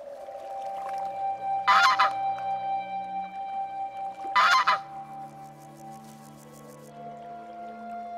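A young goose on a lake calls repeatedly for its departed family, two loud honking cries standing out over a steady backdrop of distant goose calls, with no speech.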